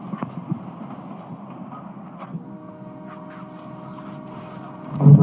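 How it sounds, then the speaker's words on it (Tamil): A train arriving in a battle royale video game, a rumbling approach with a low hum and a steady tonal drone that swells louder toward the end, with no one talking over it. "அதான் ட்ரெயின் வந்துச்சு."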